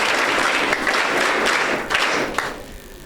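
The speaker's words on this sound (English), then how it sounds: "Can we give them a hand clap?" An audience claps at a school prayer breakfast: a dense, fairly close burst of hand clapping with a few thuds that thins out over about three seconds.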